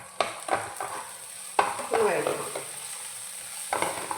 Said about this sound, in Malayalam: അതിനുശേഷം കുറച്ച് സവാള, പിന്നെ ഒരു ടൊമാറ്റോ, ഇത് രണ്ടും കൂടി ഒന്ന് വഴറ്റണം